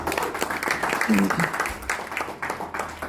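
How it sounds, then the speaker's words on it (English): A round of applause in an office setting for a volunteer, a dense wash of clapping with voices talking over it throughout, steady and fairly loud for a few seconds. "Give her a big round of applause."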